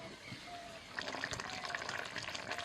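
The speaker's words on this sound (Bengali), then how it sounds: "জল দিয়ে দিচ্ছি" Water poured into a cooking pan of beans, a close, steady splashing rush beginning after a second of quieter kitchen background and continuing to the end.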